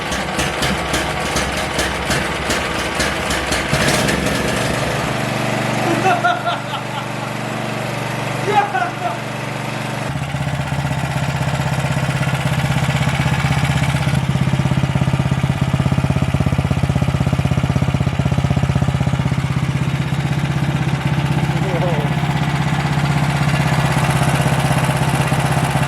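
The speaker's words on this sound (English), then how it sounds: "That is a pretty damn intimidating, big little engine." A small MXR212 or MXR420 engine starts up for the first time and runs steadily with a loud, rough idle, close by, while people exclaim over it now and then.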